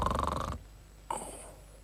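A character in an animated show snores loudly in a rhythmic, rattling rasp, then after a pause a second snore starts and fades out.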